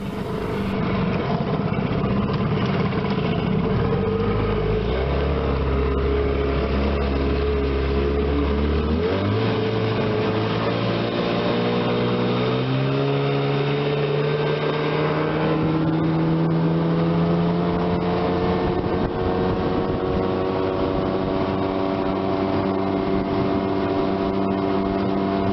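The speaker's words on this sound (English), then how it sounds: "This little outboard would run all day at this speed." A 15 HP Johnson outboard motor runs steadily on a boat, its droning engine tone shifting upward early on and then holding a sustained, even note for a long stretch.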